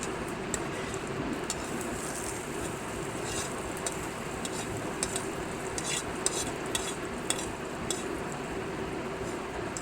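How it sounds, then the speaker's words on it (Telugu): Spice tempering for ridge gourd roti pachadi fries in a pan. A steady, close sizzle runs throughout, broken by repeated scraping and clinking strokes of a spoon stirring the spices. "తాలింపు అయితే పెడుతున్నానండి."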